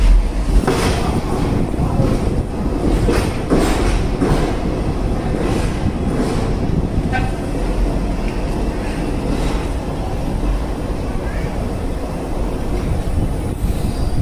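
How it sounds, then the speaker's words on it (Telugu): The Tatanagar–Yesvantpur weekly superfast express passes nearby, its carriages rumbling loudly with rhythmic clatter over rail joints and occasional wheel squeal, holding a heavy steady roar throughout. "ఆ ట్రైన్ కనిపిస్తుంది కదా, అది వచ్చేసి Tatanagar Yesvantpur weekly superfast express"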